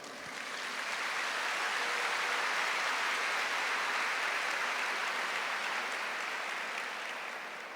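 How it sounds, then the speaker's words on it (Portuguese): At a church service, a congregation claps in a broad, steady wash that swells in and holds evenly, sounding somewhat distant and soft. "Aplauda essa palavra"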